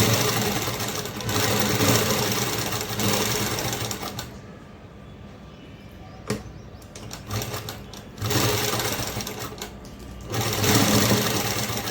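A sewing machine stitching sleeves of umbrella cloth runs in steady rapid bursts, whirring loud and close, with short pauses and quieter stretches between runs.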